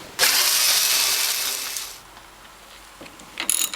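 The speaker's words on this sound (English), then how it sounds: "I'm removing all of these 6 bolts to open up the reservoir" A power tool whirs loudly for nearly two seconds while removing one of six bolts from the sheet metal of a Norwalk juicer. A quieter mechanical rattle follows, then a short burst of whirring.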